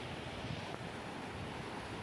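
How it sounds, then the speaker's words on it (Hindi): Water flowing in a stream below the Cascate Nordis waterfall in an Italian village, swollen with meltwater, makes a steady, dense rush with no pauses or voices. "पानी अब जो ज़्यादा बह रहा था"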